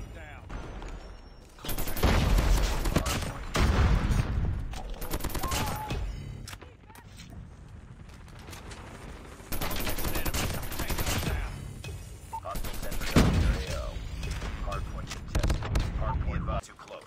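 Assault rifle fire from the CoD 6 in CoD Mobile, a high-rate-of-fire gun, with long sustained full-auto bursts rattling in several stretches, loud and near, while a voice talks over them.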